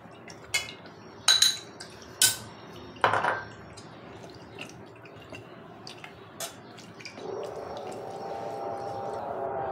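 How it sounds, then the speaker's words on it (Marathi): Kokum soaked in water is strained: a few clinks of a utensil against a vessel come first, then a steady, soft trickle of liquid runs through at close range. "आता कोकंब आहे ते मी गाळून घेणार आहे।"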